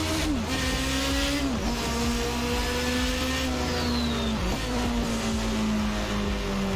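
A Toleman T184 Formula One car engine screams at full throttle in Assetto Corsa, a loud, steady high-pitched whine with brief dips at gear changes, heard alone without voices.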